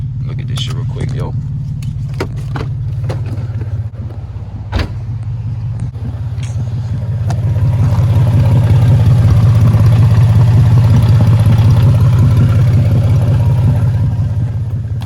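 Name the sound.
G car engine making an abnormal noise while driving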